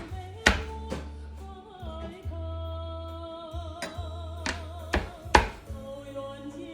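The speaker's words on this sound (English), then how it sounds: "I'm smacking down on each shrimp. And then I'll cut them up." Heavy cleaver blows smacking down on raw shrimp on a cutting board, about eight sharp thuds at uneven intervals, close and loud over a steady low hum, with no talking.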